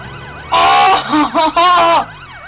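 A loud, close electronic ambulance siren in a video game wails in short rising and falling bursts, briefly broken up, over a low background hum.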